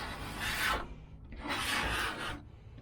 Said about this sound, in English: I may see if we can scrape that paint off with a razor blade instead of a grinder.